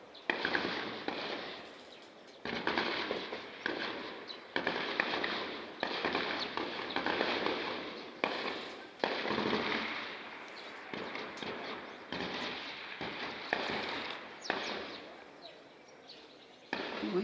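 Gunfire and shelling from fighting in Uvira, Congo, heard as dense, repeated sharp cracks and bursts that fill the whole stretch, loud and close, with no clear pauses between shots.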